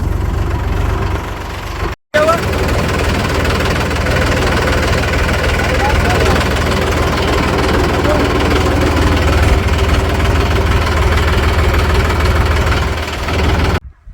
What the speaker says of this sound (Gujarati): ધોરિયાનું કામ આપણે ટ્રેક્ટર ચાલુ કર્યું છે